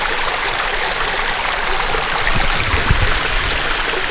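A small waterfall splashes and gurgles steadily nearby, a continuous bright rush of water with no voices.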